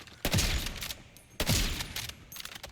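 Rapid gunfire in the video game Borderlands 4 comes as two loud bursts of quick shots about a second apart, with a softer spatter of shots at the end.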